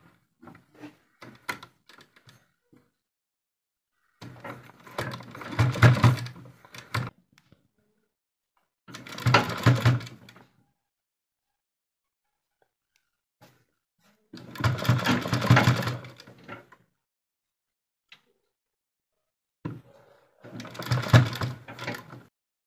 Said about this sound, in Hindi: यहाँ पर आप सिलाई लगा दीजिए।